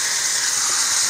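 Butter sizzles steadily in a hot pan before morel mushrooms go in, a dense, even frying hiss close up with no talk over it.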